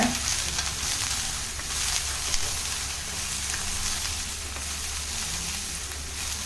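Ridge gourd frying in a pan with popped mustard seeds, a constant close sizzle with soft stirring, steady and unbroken throughout.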